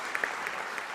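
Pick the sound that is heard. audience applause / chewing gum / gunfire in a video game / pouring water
audience applause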